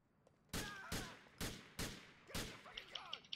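Gunshots fired in GTA IV, five loud sharp reports at an uneven pace with ringing tails, followed by a cluster of fainter pops and clicks.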